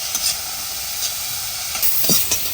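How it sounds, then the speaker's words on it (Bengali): Flat beans (batboti) frying lightly in turmeric-tinged oil in a pan with a pinch of salt, a steady close sizzle with a few soft stirring scrapes and no voices. "এখানে আমার হালকা করে বটবটিটা ভাজা হয়ে গেছে।"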